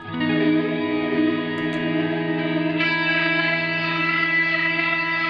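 Sustained electric guitar chord washed in reverb from an Old Blood Noise Sunlight pedal with a fast, shallow shimmering wobble, steady and loud, brightening partway through; no voices.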